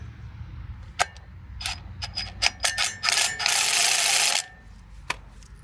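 A rear rotor bolt on an Alfa Romeo Stelvio being threaded back in, heard as quick, close ratchet clicks in short bursts, with a longer continuous whirring stretch in the middle.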